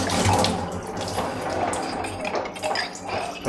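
Running tap water rinses out a curd container at a Kerala kitchen sink while a drumstick-leaf curry is being cooked, a steady close splashing stream with faint clinks of dishes throughout.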